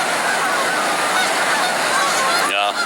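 Canada geese by the Niagara River, a flock honking over a constant loud roar of rushing water, with one clearer honk standing out near the end.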